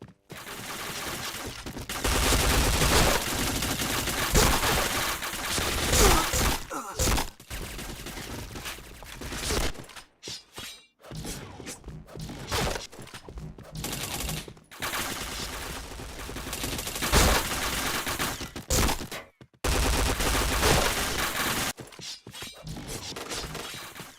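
Rapid gunfire from the shooter game Point Blank rattles in loud, dense bursts and sustained automatic volleys, broken by a few brief pauses, with no talking over it.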